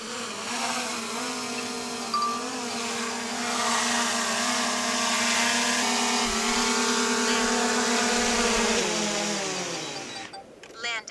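A camera drone hovers and descends to land on a rock in the Dolomites, its steady high-pitched propeller buzz loud and close throughout, winding down and cutting out at touchdown near the end.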